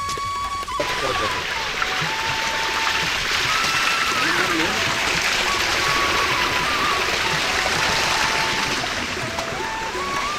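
Rainwater rushing down the built stone steps of Narayangad fort during a downpour, a steady, close wash of flowing water with faint voices in the background.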